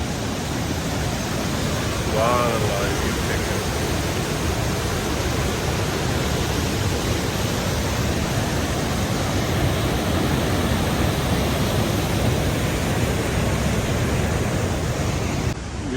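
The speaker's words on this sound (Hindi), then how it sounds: "फुल ग्रीनरी और ये फुल स्पीड के साथ वाटरफॉल बह रही है।" Dulai waterfall in Kashmir rushes at full speed, a loud, steady roar of falling water filling the scene throughout, with someone speaking briefly over it near the start.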